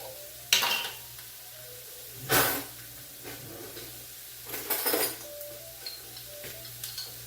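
Garlic dropping into a skillet of corn and tomatoes, with a few soft stirring scrapes and a low steady sizzle heard up close, broken by three brief louder bursts.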